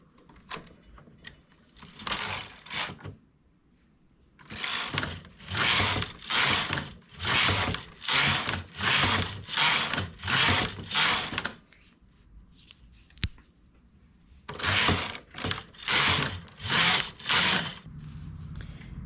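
Domestic knitting machine making a hair band: carriage passes back and forth in steady rhythmic runs, each a loud rattling whoosh, in three groups separated by brief pauses, close up with no talking.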